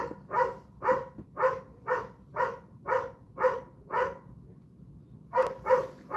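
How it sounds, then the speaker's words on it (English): Steady, evenly spaced barking from a neighbour's dog, moderately near, pauses for about a second before a few more barks resume. "My God, he barks 24/7."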